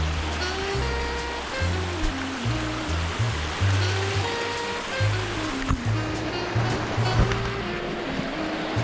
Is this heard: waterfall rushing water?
yes